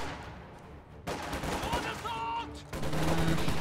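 Bursts of gunfire from grenadiers in a WWII strategy video game, sharp repeated shots rattling through the whole stretch amid battle noise, with a commentator talking over it.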